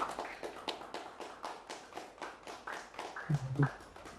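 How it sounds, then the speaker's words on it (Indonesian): An audience at a formal gathering claps in a sparse, fairly even patter of separate hand claps, moderately close, for about four seconds. "Mohon tepuk tangannya."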